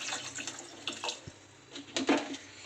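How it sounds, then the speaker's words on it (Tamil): Water is poured into a pot of chopped snake gourd pieces, a faint splashing trickle with soft drips and clinks up close, no talking. "இது மூழ்கிற அளவுக்கு தண்ணி சேர்த்துக்கோங்க."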